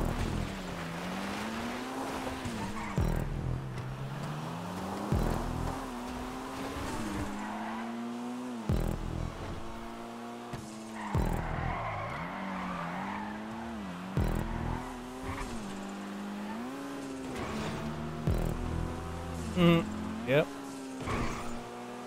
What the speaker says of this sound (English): Oh no, I spun out.